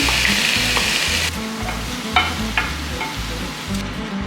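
Porcini mushrooms frying in a pan for a vegan risotto, a loud, steady sizzle close up with a few sharp stirring knocks against the pan, alone with no talk.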